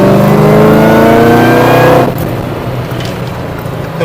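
A Chevy Camaro ZL1 accelerates hard, its loud engine rising in pitch for about two seconds before dropping to a lower, steadier roar as it pulls away.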